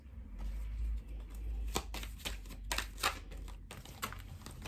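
Tarot cards being shuffled and pulled at close range, with soft, irregular papery flicks and snaps over a low background hum, and no talk.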